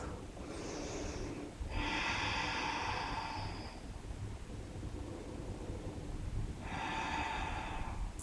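Slow, deep breathing during a gentle yoga practice, with two long airy breaths close to the microphone separated by a quiet pause over a low steady background hiss, no talking.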